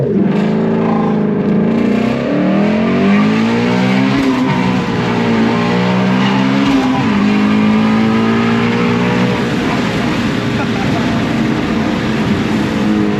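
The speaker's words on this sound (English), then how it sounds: "Let me demonstrate launch control." A 2018 Ford Mustang GT350R engine roars as it holds revs on launch control, then launches hard, rising through the gears in a sustained, aggressive acceleration.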